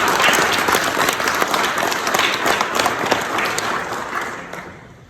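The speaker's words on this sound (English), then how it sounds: "Let's give her a round of applause." A crowd at a 90th birthday celebration claps in a full, sustained round of applause, close and lively, tapering off toward the end.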